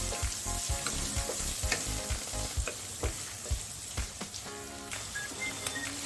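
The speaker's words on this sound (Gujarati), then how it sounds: "મસાલા થોડા કૂક થાય એટલે તેમાં 2 મોટી નંગ જેટલી ડુંગળી એડ કરી દઈશું" Finely chopped onions sizzle in hot spiced oil for a Gujarati dhaba-style corn curry, a steady frying hiss broken by repeated scraping stirs of a spoon against the pan.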